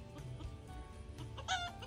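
Hens cluck softly around a farm coop, a quiet, continuous murmur of fowl calls with a slightly brighter burst of clucking near the end.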